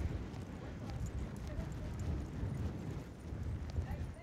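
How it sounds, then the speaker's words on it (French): A horse trots across an arena, its hooves striking the ground in a steady, continuous rhythm at middle distance against a background of wind and ambient noise. "souvent on passe au trot et on demande un départ sur l'autre pied"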